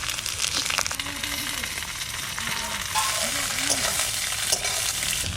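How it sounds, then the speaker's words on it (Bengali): Spring onions and potatoes sizzle hard in a pan, loud and close, with scraping strokes of a spatula stirring them throughout. They are being cooked together with freshly picked winter vegetables, and the hiss runs continuously without pause. "পেঁয়াজকলি আলু ভাজা হয়ে গেছে,"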